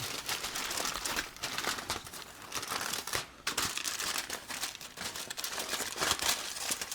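Racks of ribs being wrapped for the smoker, the wrap folded around them like a present: continuous close crinkling and crumpling with rustling bursts and a brief pause near the middle.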